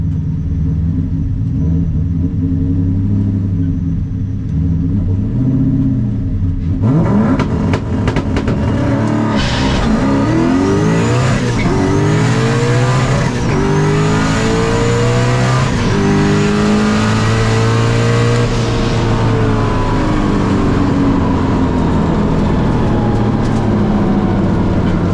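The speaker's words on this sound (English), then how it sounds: "wind it out and see what it'll do." A turbocharged Coyote V8 stick-shift car launching down a drag strip on a 9-second pass, its engine roaring loud and close through rising gear pulls with brief drops at each shift, sustained and dominant for the whole run.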